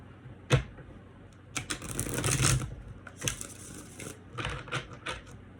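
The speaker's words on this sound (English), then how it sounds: "Let me shuffle this again." Tarot cards, an older well-used deck, being shuffled by hand in a quiet room: a sharp snap, then bursts of riffling and flicking that come and go over several seconds, fairly close and not loud.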